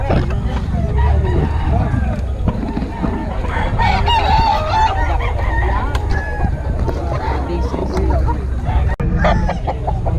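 Chickens and roosters crowd together, loud and close, with repeated crowing and constant clucking over a busy background of people talking.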